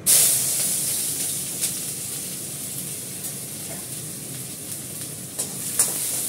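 Chopped onion dropped into hot oil for masoor dal tempering gives a loud sudden sizzle that settles into a steady frying hiss, with a few faint clinks and stirring sounds.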